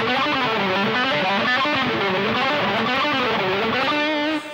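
A fast alternate-picking lick on a distorted electric guitar runs as continuous semiquavers across a pair of strings, loud and even, with no talking, cutting off at the end.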